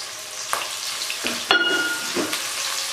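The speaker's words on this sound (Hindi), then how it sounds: "कुकिंग ऑयल गर्म हो चुका है, अब हम इसमें प्याज डालते हैं।" Chopped onions drop into hot cooking oil for dhaba-style chana dal, bursting into a close, loud sizzle with a few sharp crackles and spatters that settle into a steady frying hiss, no voices.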